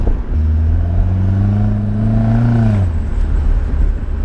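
A Mercedes R129 SL convertible cruising with the top down: a loud, close engine note rising steadily in pitch through a gear, then dropping off, with road and wind rumble beneath.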